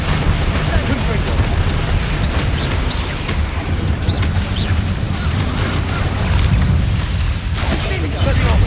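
Confringo blasting spell cast in Hogwarts Legacy, a dense, loud stretch of magical booms and bursts layered over constant combat noise, with a voice shouting spell names.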